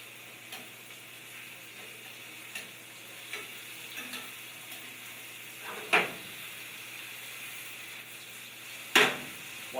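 Cauliflower florets sizzle steadily in a pan after being flipped, a soft continuous frying hiss with a few sharper crackles and pops rising above it, no talk.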